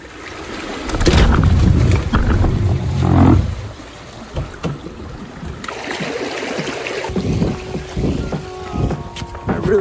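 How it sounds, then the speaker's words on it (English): A Jeep drives straight through a homemade pool of water, giving a loud rushing, churning splash with wind buffeting over engine rumble across most of the stretch, then settling into a lower steady wash. "we're going to drive straight through this pool, and that's what we're doing right now"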